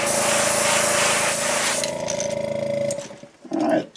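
A jerkbait lure being spray painted white: a close, loud hiss of aerosol spray for about two seconds, then a weaker sputtering spray that tails off into a short final burst.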